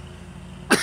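Single harsh cough bursts out abruptly near the end after quiet room tone, loud and close.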